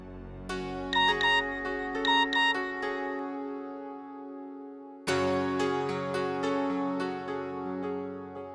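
A melodic phone ringtone plays two repeating chiming phrases, stops briefly, then starts again louder and fuller, ringing on without any voices.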